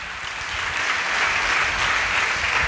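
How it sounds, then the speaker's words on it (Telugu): A church congregation at a Sunday worship service claps loudly and continuously, the applause swelling slightly after the first half second and holding strong throughout. "చప్పట్లు కొట్టండి గట్టిగా."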